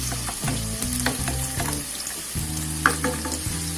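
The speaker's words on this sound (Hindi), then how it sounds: "अब हम चॉप्ड गार्लिक डालेंगे।" Chopped garlic hitting hot oil for restaurant-style chicken fried rice, a dense crackling sizzle with spatula stirs and clanks, while a low harmonic hum from a nearby burner or fan pulses underneath; close and fairly loud, no speech.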